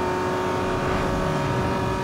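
A tuned street-racing car's engine drones loudly and steadily in Need for Speed: Underground 2, its continuous roar holding near a constant rev throughout a short stretch with no talk.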